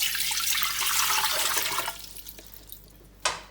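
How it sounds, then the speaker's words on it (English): About a litre of water pours into a 5-litre cooking pot for marmalade, a loud splashing rush that tails off after nearly two seconds, followed by a brief clatter. "So to my pot, I'm adding 1 litre of water."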